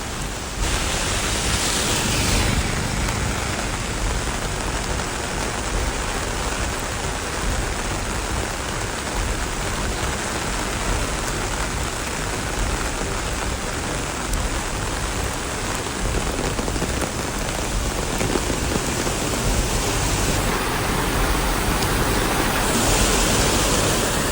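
Heavy rain pouring continuously in a hilly region struck by landslides, a dense, loud, unbroken hiss of falling water throughout, no voices.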